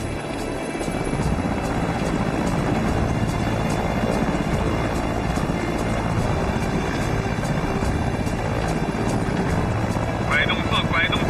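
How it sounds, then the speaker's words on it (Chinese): Army aviation helicopter taking off: a loud, steady rotor and engine roar fills the whole stretch, with people talking over it. "白宇，起飞。"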